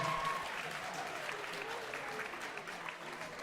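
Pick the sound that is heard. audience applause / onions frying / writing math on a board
audience applause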